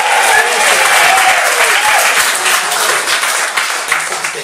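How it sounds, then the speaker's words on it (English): A large audience claps and cheers together on cue, a loud dense burst of applause with whoops and voices that holds steady and tapers slightly toward the end. "everybody clap and cheer"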